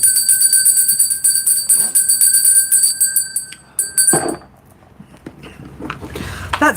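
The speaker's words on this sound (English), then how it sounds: "I'm just going to ring that bell." A bell is rung several times, its bright sustained ringing tones overlapping for about four seconds before cutting off, followed by quieter handling clatter and rustle nearby.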